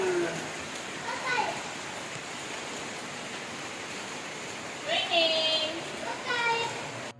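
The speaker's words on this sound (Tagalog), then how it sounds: "ulan na naman." Steady rain hiss fills the whole clip, with children's voices chattering over it at moments.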